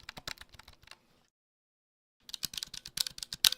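Zeal PC silent switches on a keyboard clack in two quick bursts of firm, close keystrokes, with a silent gap between them.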